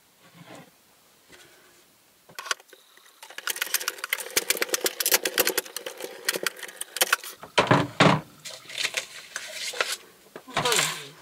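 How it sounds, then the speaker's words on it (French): Paper being cut for a pink and grey Christmas mini junk folio gift, a run of close, crisp snipping and rustling strokes that keeps going for several seconds after a quiet start. "Et je vais couper comme ça."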